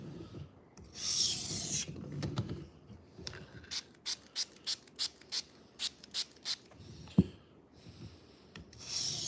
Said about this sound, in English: I'm just going to go ahead and cut into the stone